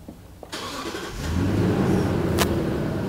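A Lexus car engine cranks and catches, then settles into a steady, loud idle that rises a little as it revs, close by, with a short sharp click near the end.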